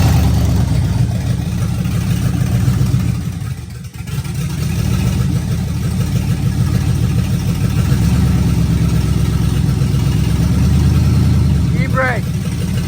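A third-generation Chevrolet Camaro with a swapped-in LS V8 runs at a steady low rumble, close by and continuous beneath people talking nearby.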